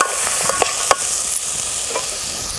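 A spoon turns peanuts through a spiced Maharashtrian pavta masale bhat rice mixture in a hot pan: a loud, continuous frying sizzle with light scraping taps, no voices.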